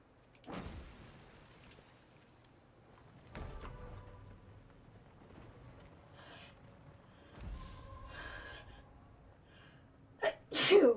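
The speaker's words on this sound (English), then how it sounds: "Do not know where the sneezing's coming from." A person sneezes several times, spaced a few seconds apart, sharp bursts close to the microphone in a quiet room, with the last sneezes coming loudest at the very end.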